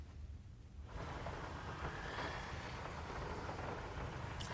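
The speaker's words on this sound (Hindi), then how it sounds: "बारिश इतनी तेज़ है कि यहाँ से बाहर नहीं निकल सकते हैं" Heavy unseasonal rain pounds outside a car, a steady loud hiss that swells in about a second after a quieter start and stays constant, with no voices.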